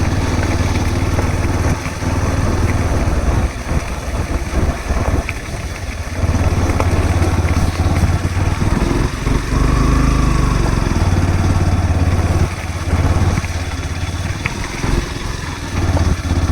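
A Yamaha FZ motorcycle rides off-road over a rocky, bumpy track, its engine a loud, close, continuous rumble that rises and dips with throttle throughout.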